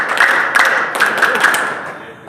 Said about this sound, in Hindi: इनका स्वागत तालियों के साथ।